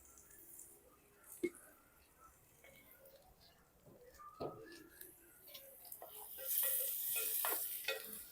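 Onions frying in a pan for a gongura boti pulav, giving a faint, steady sizzle with a few soft stirring clinks and scrapes throughout.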